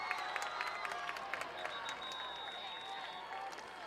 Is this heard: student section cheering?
yes